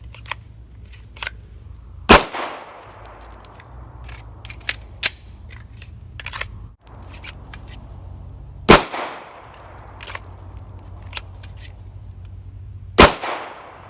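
Pistol shots during red dot shooting practice, three loud sharp cracks spaced several seconds apart, each trailing a brief ringing decay, with small clicks and handling noises between them.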